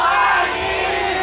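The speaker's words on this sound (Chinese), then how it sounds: "歌名要一人抵百人的尖叫声，可以吗？" Crowd at the Taoyuan Minnan Culture Festival banquet event letting out a loud, sustained roar of screams and cheers, short and close.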